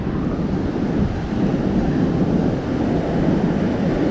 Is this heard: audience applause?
no